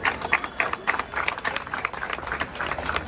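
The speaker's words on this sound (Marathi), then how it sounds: "टाळ्या वाजत राहिल्या पाहिजे गाईज" A crowd claps through a welcome at a Govinda pathak practice launch, where guests are greeted with bouquets; the clapping is steady and moderately loud, with a few louder, separate claps over a general crowd murmur.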